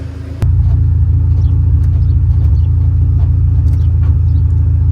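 A Honda car with a K series engine idles and then rumbles steadily as it backs out for a test drive, a close, continuous low engine drone after a brief start-up.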